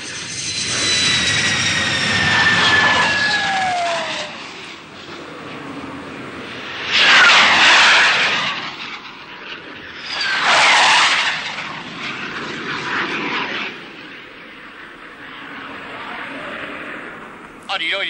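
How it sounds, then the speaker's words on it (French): A jet airplane takes off with a loud, continuous roar that swells twice as it passes close by, then settles into a steady rumble. "Tiens, ça y est, Roger décolle."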